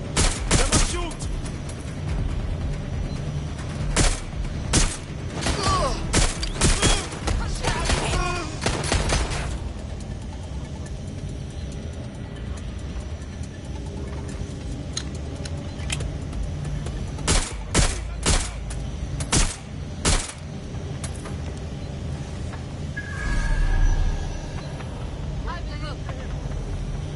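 Bursts of gunfire from the video game Watch Dogs Legion on PS4 Pro, sharp cracks in irregular clusters and rapid volleys, loud and close, with someone talking over parts of it.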